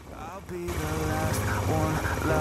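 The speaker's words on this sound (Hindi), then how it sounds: "थोड़ी देर ये बाइक की फायरिंग सुनो अब आप लोग" A motorcycle engine runs at a steady idle close by, a continuous loud mechanical rumble with a faint high whine, after a brief quieter moment at the start.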